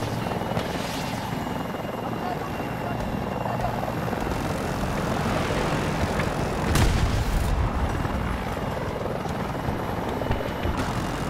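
Steady helicopter rotor drone fills the scene in a video game, with a loud burst of gunfire or an explosion midway and rumbling combat noise throughout.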